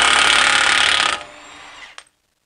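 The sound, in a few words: impact gun removing 36 mm oil pan bolt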